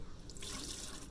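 Water from a cup pours into a sink, a short steady splashing stream that grows fuller and brighter halfway through, close by with no talk.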